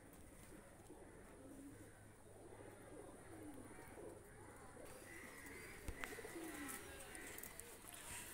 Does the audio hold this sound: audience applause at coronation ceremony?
no